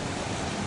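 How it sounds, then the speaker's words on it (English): Large king tide waves, some 25 to 28 feet high, crash against the Oregon coast in a dense, continuous roar of surf and wind with no talk. "You see these spectacular waves, 25, 28 foot waves hitting the coast."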